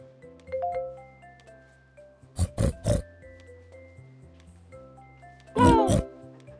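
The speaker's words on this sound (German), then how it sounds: "Na klar, das war das Schwein." A cartoon pig oinks in a Lego Duplo children's hearing test at the doctor's office: three quick snorts, then after a pause one louder, longer squealing oink over light music.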